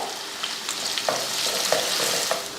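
Chopped onion, green chili and curry leaves fry in a pan with a steady close sizzle, broken by a few soft scrapes of stirring.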